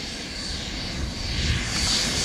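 An RC HSD Jets T-33 with a 120mm electric ducted fan flies at full throttle, a loud steady rushing whine that builds slightly toward the end with no talk over it.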